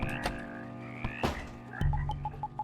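Frog croaks from the horror video game House, a loud close burst of rough croaking followed by a rhythmic series of short repeated croaks.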